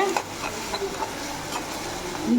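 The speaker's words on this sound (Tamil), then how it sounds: "அதையும் நல்லா வதக்கிக்கலாம்." Tomato being sautéed in a pan for a chapati stuffing, giving a soft steady sizzle with light stirring scrapes, close and fairly quiet.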